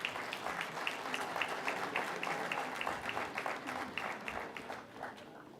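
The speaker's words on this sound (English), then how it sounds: "Ladies and gentlemen, a round of applause for our esteemed dignitaries" An audience at a Startup India event claps for dignitaries, moderately distant applause with distinct individual claps forming a steady patter that fades slightly near the end.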